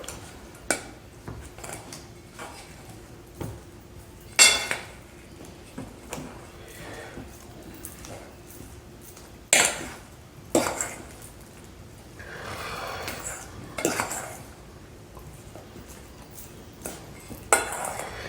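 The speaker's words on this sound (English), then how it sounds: "all we're going to do is take a fork, mash all this together" A fork mashes and scrapes compound butter ingredients with salt and black pepper in a bowl, giving scattered close clicks and scrapes of metal on dish between quiet pauses.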